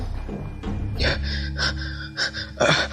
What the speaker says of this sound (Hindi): थके हुए चूहे सा वो सीढ़ियों पर बैठकर हाँफने लगा।